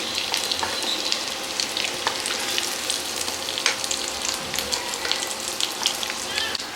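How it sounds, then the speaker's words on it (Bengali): Steady oily sizzling with scattered crackles and pops, fairly close, with occasional faint clinks and a low hum underneath. "আলু ভাজা হচ্ছে এখনো"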